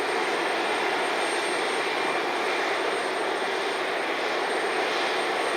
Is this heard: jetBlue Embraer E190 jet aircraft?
yes